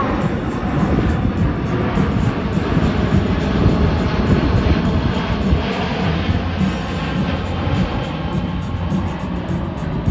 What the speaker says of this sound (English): that's a big airplane